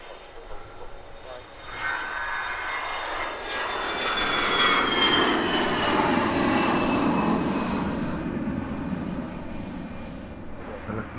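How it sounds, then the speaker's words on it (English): A Wizz Air Airbus A321 jet arriving at Luton Airport after a flight from Budapest, its engine roar swelling steadily from a distant whine to a loud broad rumble and then easing slightly, with a voice talking over it. "We're looking at Wizz Air flight 2201 in from Budapest, 2 hours 31 in the air for this A321."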